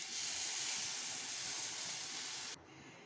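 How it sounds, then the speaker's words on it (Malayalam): Kudampuli (garcinia) water poured into a pan of hot masala for fish curry sets off a loud, steady hiss of sizzling that holds for a couple of seconds, then cuts off abruptly, leaving a faint quieter wash. "കുടംപുളി വെള്ളം ഒഴിക്കുകയാണ്."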